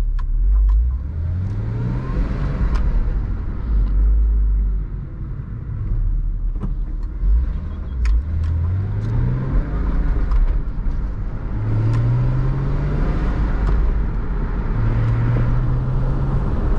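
A 2000 Porsche Boxster S with a manual transmission drives along, its engine rising in pitch through repeated accelerations with gear changes between, loud and steady under constant road and wind noise from inside the car.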